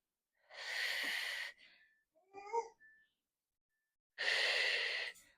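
Two long, forceful exhalations during an upper-body home workout, each a sustained breathy rush close to the mic, separated by a brief softer breath and quiet.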